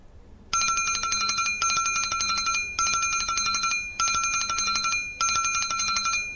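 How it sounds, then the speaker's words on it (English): A bell rings in five separate bright, metallic bursts of roughly a second each, evenly spaced with short gaps, loud and close, like a telephone or bicycle-style ring with no talk around it. "The boy can hear the ringing bell using his ears."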